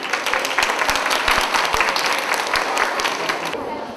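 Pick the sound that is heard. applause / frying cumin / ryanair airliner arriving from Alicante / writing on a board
applause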